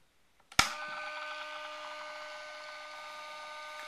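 A KiwiRCM Witchdoctor record cleaning machine clicks on and settles into a steady whirring hum as the platter spins, loud and close, with no voices.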